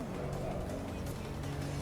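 A Mitsubishi Evo race car engine in a racing simulator, droning steadily at high revs through a lap, with a continuous buzzing tone and a faint rising pitch, moderately loud and unbroken.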